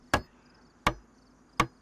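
A hatchet drives nails while building a watchtower at a camp in a video game: three crisp, evenly spaced knocks with a faint background hum, no voices.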